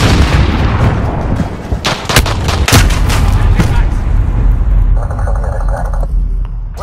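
Gunfire and explosions in an objective-capture multiplayer video game: dense, close bursts of shots and heavy booms in quick succession, with a brief electronic tone near the end and shouted voices mixed in.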